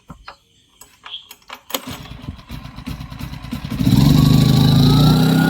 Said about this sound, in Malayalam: നമ്മുടെ ജനറേറ്റർ സ്റ്റാർട്ടായിട്ടുണ്ട്.